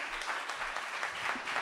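Audience applause follows a live performance, a soft, steady wash of distant clapping over a short moment.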